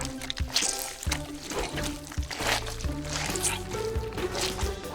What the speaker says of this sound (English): And when you do, it makes this very squishy sound.